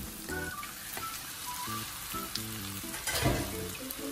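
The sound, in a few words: ground pork frying in a pan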